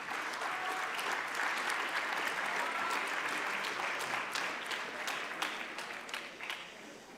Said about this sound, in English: Big applause for them, please.